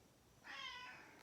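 A pet cat gives a single short meow, heard fairly close in a quiet indoor room, starting abruptly after a moment of silence and fading out over about half a second.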